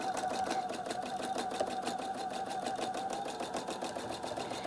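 A sewing machine runs at a steady rapid pace as it stitches freely across dyed fabric, its needle clattering in an even rhythm over a continuous motor whine, close and unbroken throughout.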